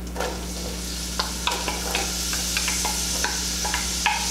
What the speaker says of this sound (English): Perfect sizzle too.